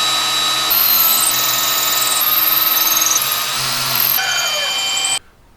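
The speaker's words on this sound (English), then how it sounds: "continue drilling a bit deeper into the plywood" A power drill bores through a piece of driftwood into plywood, a steady close whine running for about five seconds with slight pitch shifts before stopping abruptly.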